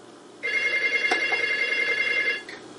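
A middle-size telephone rings in one sustained, even electronic trill for about two seconds, moderately loud and close, then cuts off against a quiet room with no talking.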